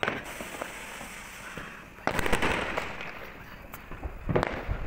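Firecrackers bursting outdoors during Diwali celebrations, a series of sharp cracks and pops at irregular intervals over a crackling background, moderately loud at mid distance.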